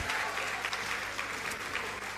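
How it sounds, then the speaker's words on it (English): A seated audience at a hair loss science panel talk gives a brief round of applause, a close, dense, even patter of many hands lasting about two seconds. "Can we just give a round of applause for their already sterling efforts today and all their presentations?"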